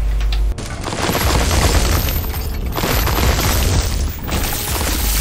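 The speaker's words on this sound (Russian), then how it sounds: "Меня бьют, я начинаю все взрывать, и я сам хиляюсь даже." Rapid explosions in a hectic video game fight, a dense run of booms and bursts with crackling debris, loud and nearly continuous for several seconds.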